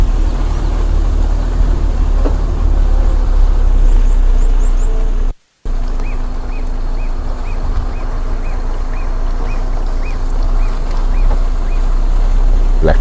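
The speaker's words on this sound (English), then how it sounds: "Blackback, puffback, busy calling there." A black-backed puffback gives a series of short, evenly spaced calls on safari, repeated steadily over loud, constant background noise with a brief dropout.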